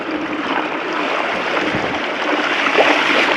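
A motor vehicle eases through water on a Mendips trail, giving a broad rushing, splashing wash that swells slightly toward the end, with no engine note standing out.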